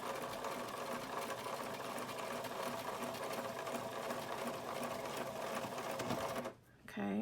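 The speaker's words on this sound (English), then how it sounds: "I'm going to sew down along it" A sewing machine runs steadily, stitching along the metal nose piece of a flute mask with a close, even mechanical whir that stops briefly near the end, and a voice talks faintly underneath.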